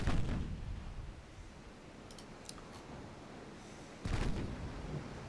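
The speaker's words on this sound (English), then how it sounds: "6-inch guns opening up" Six-inch naval guns fire in a video game: faint distant booms with sharp clicking transients around the middle, then a louder report near the end over a low background rumble.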